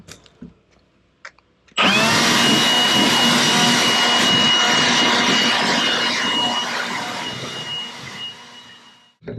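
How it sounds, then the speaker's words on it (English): A Milwaukee leaf blower blasts debris out of a 1992 Dodge Stealth R/T twin turbo, starting abruptly after a few quiet knocks and roaring loud and close for several seconds before tapering slightly, with no talking. "we are going to take the old Milwaukee leaf blower, and we're going to get some of this debris out of it."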